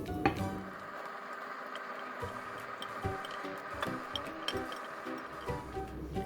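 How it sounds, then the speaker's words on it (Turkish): Soft splashes and irregular clinks as bulgur meatballs drop into a pot of bubbling water, with faint kitchen clatter in the background. "Şimdi köftelerimizi kaynar suyumuzun içine aktarıyoruz."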